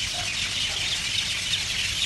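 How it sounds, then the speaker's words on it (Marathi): Birds roosting in trees at night, a constant dense chatter of many small calls heard from a distance, steady and moderately loud with a low background rumble. "त्यामुळे ह्या पक्ष्यांचा आवाज आहे हा."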